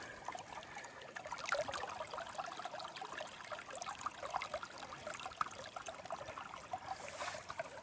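Steady trickle of water running through ripples on a gold fossicking setup, a continuous close rushing with no talk over it.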